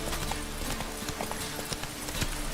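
Hooves clip-clop in a quick running rhythm as a horse gallops in The Witcher 3 video game, fairly close and steady with no talk over it.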